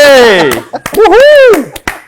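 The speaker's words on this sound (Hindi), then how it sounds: "ताली बजाओ ना इस बात पे" A few sharp hand claps ring out between and under a man's loud, expressive speech, scattered quick smacks rather than sustained applause.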